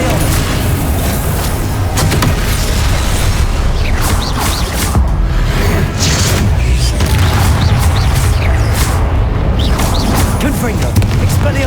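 Spell blasts from the Confringo fire curse in Hogwarts Legacy, a series of loud booming explosions with crackling, rumbling tails during a busy duel, steady and intense throughout.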